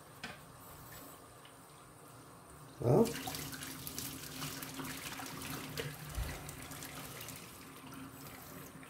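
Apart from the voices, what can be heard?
hot pasta water drained through a strainer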